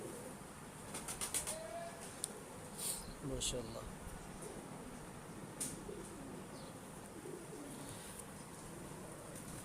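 Pigeons flutter and flap their wings in short bursts amid soft bird calls and ambient noise, and someone speaks briefly.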